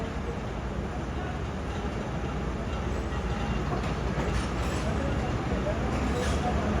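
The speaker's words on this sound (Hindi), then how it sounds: "तो भाई फाइनली ट्रेन फ़ौरन निकल गई अपना फर्स्ट डिपार्टिंग देने के बाद लाहौर जंक्शन से।" The Allama Iqbal Express, with a new AC coach, pulls out of Lahore Junction as a continuous, even rumble of rolling wheels with a faint hiss above it, steady and unbroken throughout.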